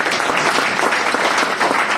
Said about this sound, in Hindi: बिल्कुल सर के लिए एक बार जबरदस्त तालियां दीजिए।